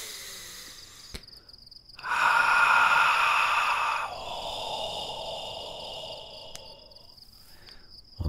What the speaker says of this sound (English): Exhale the sound ha, and ho.